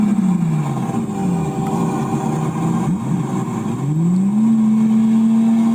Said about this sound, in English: Dude, it's a Murcielago.